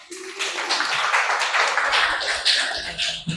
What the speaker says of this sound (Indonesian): Tepuk tangan kepada kelompok 2.